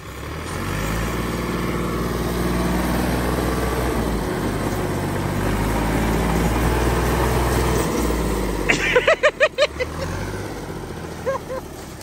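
An old-model tractor engine runs on a cold day with a steady, deep, throbbing drone close to the microphone, followed near the end by a few brief sharp bursts of sound.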